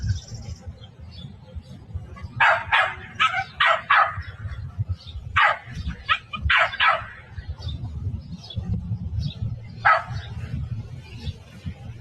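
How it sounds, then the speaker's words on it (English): A Jack Russell terrier barks in short, clustered bursts while retrieving a ball stuck in a tree, with steady low background rumble running throughout. "Jack Russell retrieves a ball stuck on a tree for his brother."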